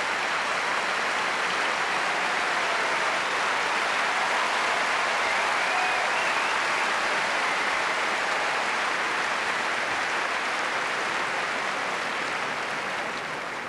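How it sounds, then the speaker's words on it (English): A packed tennis centre court crowd gives sustained, loud, rich applause after a men's match, a dense roar of clapping holding steady for over ten seconds and easing slightly at the end, with no voices over it. "rich applause from a packed centre court who have enjoyed a tremendous demonstration of brilliant all-court tennis from both men"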